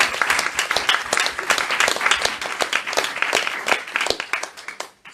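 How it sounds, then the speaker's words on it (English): Audience at a talk-show panel event applauding, dense continuous clapping from many hands close by, holding steady and then tapering off at the end. "let's close with a round of applause"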